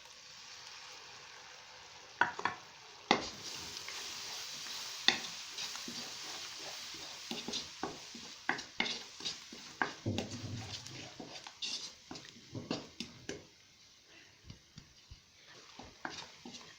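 Tomato paste hits hot spiced oil in a pan for chana masala, raising a close sizzle and sputtering pops, with clattering utensil scrapes and stirring knocks that turn busier midway before easing off.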